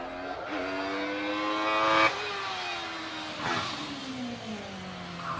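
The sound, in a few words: Caterham 7 race car driving up Harewood hillclimb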